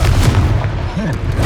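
Booming fire-spell explosion from the Confringo spell in the video game Hogwarts Legacy, a loud, deep blast with rumbling low-end that fills the short moment.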